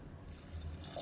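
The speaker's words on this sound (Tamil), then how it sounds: "நான் வந்து சுடு தண்ணி தான் சேர்க்குறேன்." Hot water poured into a cooking gravy in a pan, heard as a short, steady, close liquid pour with no talking.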